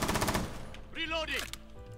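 Gunfire in a Rainbow Six Siege match, a loud burst of rapid automatic shots followed by a quieter ringing tail and a brief voice.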